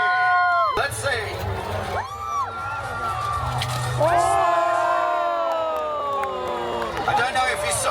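A crowd at a medieval festival joust in Blacktown, Sydney, cheers and whoops loudly throughout, with shouting voices rising over a steady roar of hubbub.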